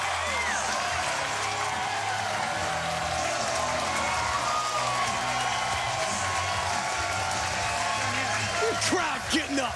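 A bowling crowd cheers and applauds after a spare pickup at a televised King of the Hill event, a steady, dense roar of clapping and voices that holds for the whole stretch, with a few whoops rising near the end.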